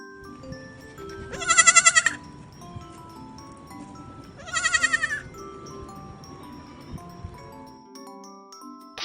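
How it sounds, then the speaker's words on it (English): A goat bleats twice in wavering, nasal calls spaced a few seconds apart, fairly close and clear over a low rumbling background. "Goat."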